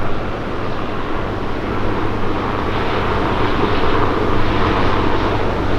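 Steady, broad rumbling drone of a helicopter flying overhead near a beach boardwalk, continuous and fairly loud throughout, with no voices.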